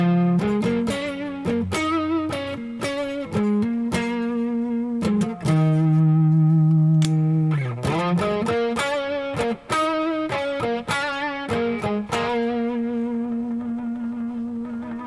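Electric guitar played through a Joyo Vintage Overdrive pedal, clear mildly driven single notes and short melodic runs with a held note midway, played alone with no talking.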